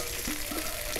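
Mustard oil poured into a hot pan for okra do pyaza gives a brief, steady, close sizzling hiss with no talking.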